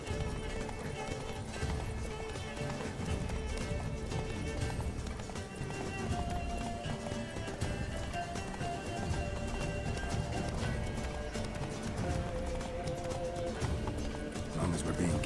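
Horse galloping in The Witcher 3 video game, rapid clip-clop hoofbeats running steadily throughout under game music and ambience, with voices talking over it.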